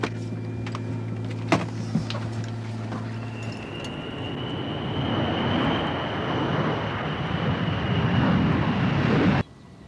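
Aircraft engines swell into a broad, steady roar with a thin high whine as the plane climbs into the air, building after a quieter stretch and holding loud until cutting off abruptly near the end.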